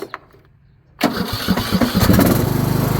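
A riding lawn mower engine starts: a brief mechanical click, then after a pause the engine catches with a loud sudden roar and settles into a steady, throbbing run, close by and with no talking.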